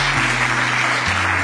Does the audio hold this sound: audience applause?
yes